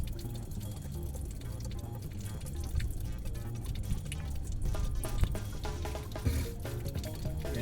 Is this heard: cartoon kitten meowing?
no